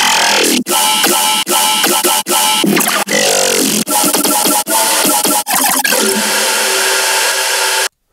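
Layered dubstep bass samples play together in a riddim drop, a dense, loud, distorted engine-like growl chopped into about eight rhythmic hits, each cut by a brief gap, then a sustained note that stops abruptly.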